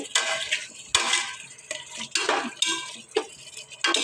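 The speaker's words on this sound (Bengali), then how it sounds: "এই এখন একটু আবার ভালোভাবে নেড়ে ছেড়ে দেবো। নিচেরটা উপরে দেবো, আর উপরেটা নিচে উল্টো পাল্টে দেবো।" Chicken meat is stirred and turned over in a cooking pot, with repeated scraping sweeps and metal clatter in uneven bursts. The sound is close and loud, with a soft frying hiss in the gaps.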